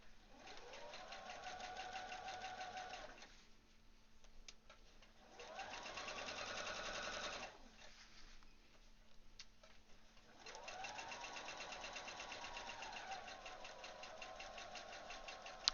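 A sewing machine stitches a garment seam in bursts, its motor whirring up and down through three long runs separated by short pauses, close and steady with no talk.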